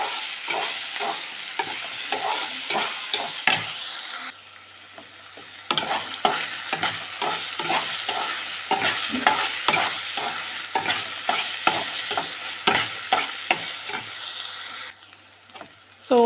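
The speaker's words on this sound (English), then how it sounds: "So we have to fry this onion until it becomes golden in color" Chopped onion frying in a pan for onion tomato chutney, a continuous bright sizzle broken by repeated scraping stirs in a quick rhythm, with a short pause midway and no talking.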